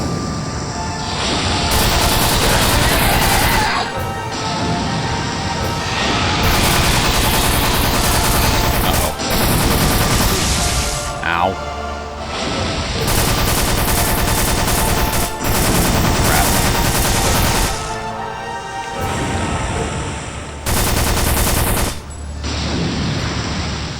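Heavy gunfire from a ship's deck gun in a video game, sustained bursts of loud rapid shots with brief pauses between volleys, filling most of the stretch.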